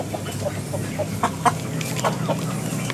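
Young hybrid Brahma-cross chickens around two months old clucking in a cage, a string of short close clucks over a steady farmyard background, with no talking.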